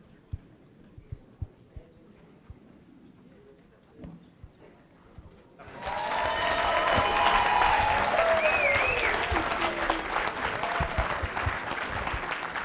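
Audience applause breaks out at a town inauguration ceremony, a sudden burst of sustained clapping from a crowd after a quiet start, continuing loud and steady to the end.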